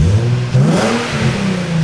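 A Nissan 350Z with a modified exhaust, warmed up, gives one loud close rev that swells and holds with a deep throaty drone, briefly dips, then carries on at steady high revs.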